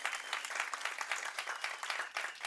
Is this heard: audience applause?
yes